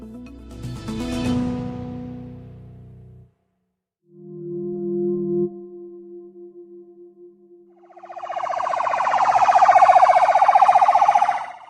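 Ambulance siren racing toward an airstrike site in Gaza, sounding in separate bursts: a loud wail at first, a steadier mid-length tone after a short gap, then a louder rapid warbling yelp at the end.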